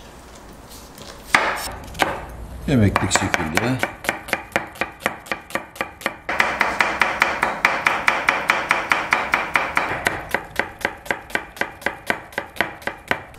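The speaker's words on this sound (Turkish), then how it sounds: "Şimdi soğanımızı da doğrayıp hazırlayalım." Steady, rapid knife chops thud on a cutting board as onions are chopped, dozens of even strikes in a brisk rhythm, with a few brief spoken words early on.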